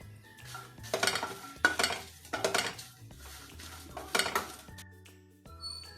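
Curry leaves, tamarind and garlic frying in a pan give a soft sizzle under repeated clinks and scrapes of a spoon against the metal, in several close bursts with short pauses between.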